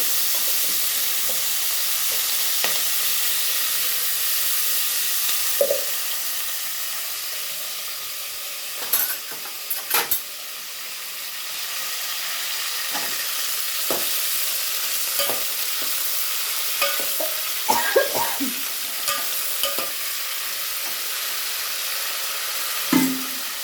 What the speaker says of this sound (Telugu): మిరపకాయలు మంచిగా కడిగి ఇట్లా నూనెలో గోలించుకోవాలి.